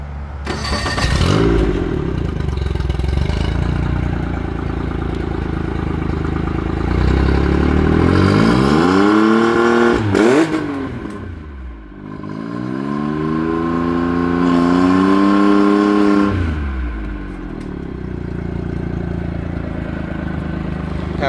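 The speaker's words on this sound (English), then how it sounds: "Even with the exhaust out of the water, this motor is so much quieter than the surface drives" An outboard motor running on muffs with its exhaust out of the water, a loud close engine that idles, then revs up and down in rising and falling sweeps before settling.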